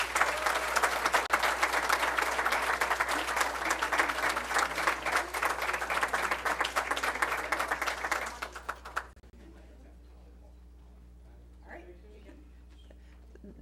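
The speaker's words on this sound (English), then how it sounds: "give them a big round of applause" A school board meeting audience gives graduating seniors loud, sustained applause for about nine seconds, then it cuts off abruptly to near silence with faint room noise.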